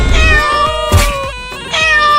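A cartoon kitten in a Hindi animated story meows loudly and close, with repeated drawn-out, wavering cries.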